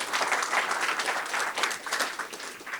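Audience applause for BREC at a Baton Rouge Gallery contemporary arts event, a steady, dense clapping from a crowd that carries evenly without pause.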